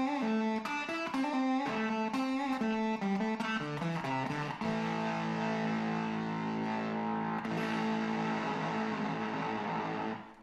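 Guitar played through an effects pedal with its modulation switch engaged, giving a gated fuzz tone: loud, dense distorted notes in a choppy rhythm that settle into a sustained, heavily processed chord drone for the second half.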